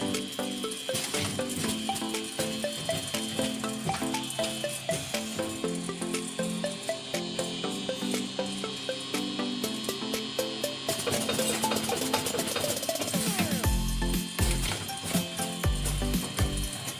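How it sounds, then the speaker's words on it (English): A premade-pouch seed packing machine works its stretching air-deflating device, pressing air out of pouches before sealing: a steady, busy mechanical clatter of ratcheting and clicking parts runs throughout, close and fairly loud, with no talk. "Stretching air deflating device. Apply for deflating the air before sealing."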